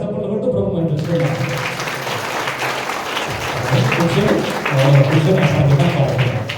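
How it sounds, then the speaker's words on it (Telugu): A congregation at a Catholic church service for the Feast of Mary, Mother of God and New Year claps loudly together, a sustained dense patter that grows stronger toward the end, with voices mixed in. "గట్టిగా చప్పట్లు కొట్టు ప్రభు మనం చూస్తున్నాం."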